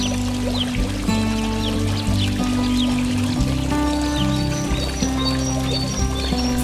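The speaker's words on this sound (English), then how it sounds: "Luxury resort-style hardscape with multiple waterfalls flowing seamlessly into a colorful koi pond" Multiple backyard waterfalls pour into a koi pond in Apopka, Florida, giving a loud, steady, continuous splash close by, with faint bird chirps over the rushing water.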